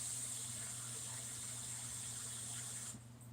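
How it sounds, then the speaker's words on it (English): Water gushes steadily into a sink while dishes are being washed. A low electrical hum runs beneath the flow, which then eases off in the final moment. "To add a little bit of water."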